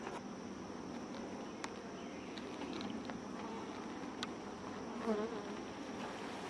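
Honeybees buzzing around an open hive during a two-month colony inspection, a faint, continuous insect hum with a few brief louder passes close by, no voices.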